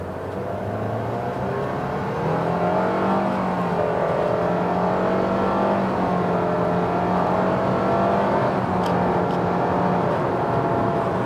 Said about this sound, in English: let me give you some full throttle acceleration here